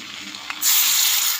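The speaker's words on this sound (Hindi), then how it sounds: "अब ये जो मैरिनेटेड चिकन था ये तमाम मैं इसमें ऐड कर दूंगी और हम इसको अच्छे से इसमें फ्राई करेंगे" Marinated chicken pieces hitting hot oil in a karahi for tandoori chicken, a soft hiss that suddenly swells into a loud, steady broadband sizzle after a brief quiet start, close and without talk.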